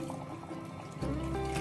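Water poured into a cooking pan, a brief liquid trickle and fill sound that swells partway through, close and moderately loud.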